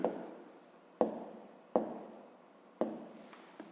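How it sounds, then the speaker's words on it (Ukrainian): A pen scratches across paper while someone works a grade-5 maths exercise. Four close, quiet strokes each start with a sharp tap and fade out. "Отже, пишемо."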